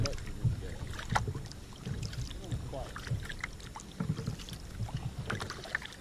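Kayak paddles dip and swish through a calm river in rhythmic strokes with gentle water splashes, light wind and faint background voices.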